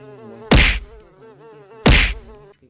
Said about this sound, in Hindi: ये मक्खी कहां से आ गई?